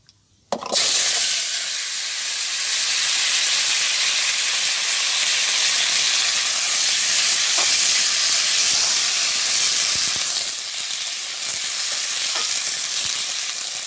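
Pumpkin and potato pieces dropped into hot oil in a village kitchen set up a loud, steady frying sizzle and hiss, close up and continuous after a sharp start, with no talk over it.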